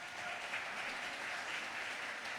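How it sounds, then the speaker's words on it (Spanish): Steady applause from a church congregation welcoming a newcomer, a dense even patter of many hands sustained throughout without voices. "Para darles un aplauso en el nombre de Jesús."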